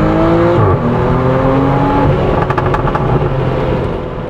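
A Morgan Plus Six with its BMW 3.0-litre engine revs loudly in Sport Plus mode, a strong throaty burst that settles into a rumbling idle with crackles, heard close and alone.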